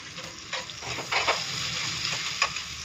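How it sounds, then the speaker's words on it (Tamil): Vegetables sizzle and fry in a pan in a home kitchen, a steady close hiss broken by a few louder stirring scrapes. "இப்போல்லாம் காயெல்லாம் போட்டு வதக்கிட்டோம்."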